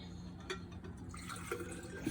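Cold water trickles and drips into a container, with soft faint pours and a few small splashes in a quiet room.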